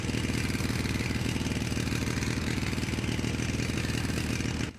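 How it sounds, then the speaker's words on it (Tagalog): A motorcycle engine roars steadily at close range as it speeds away from a school in an animated horror story, a loud continuous buzzing drone that cuts off abruptly at the end. "Sumakay ako ng motor at humarurot paalis ng eskwelahan."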